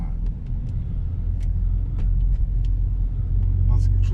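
A car, apparently a VR6 fitted with snow tires, spins its wheels as it accelerates on soaked ground, a deep engine rumble building close by. People talk in the car over the noise.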